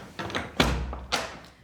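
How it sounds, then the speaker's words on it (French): A door being opened at the end of a consultation in a French cosmetic surgery clinic: a few soft taps and thuds, then a sharper handle clunk and a later knock-like bump, close and moderately quiet. "je vous ouvre la porte"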